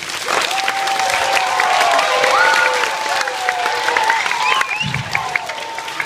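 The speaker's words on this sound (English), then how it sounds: "let's give all of our performers a round of applause" A school audience gives a sustained round of applause for student performers at a Black History program, loud and steady throughout with a few cheers and whistles mixed into the clapping.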